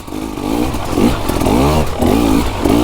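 A KTM hard enduro motorcycle engine lugs at low revs off-road in the dirt, a loud, close chugging that rises and falls in a few slow surges.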